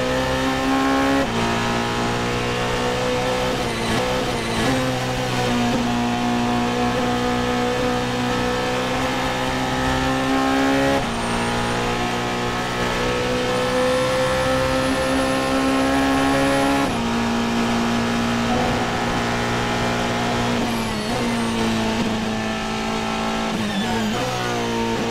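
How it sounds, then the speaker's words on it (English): A Porsche 919 Hybrid Evo race car laps the Nürburgring Nordschleife, its engine screaming loud and steady with repeated rising pitch sweeps as it shifts through gears, with no talk. "And the most astonishing lap of their tribute tour was obviously the Nürburgring Nordschleife done by Timo Bernhard."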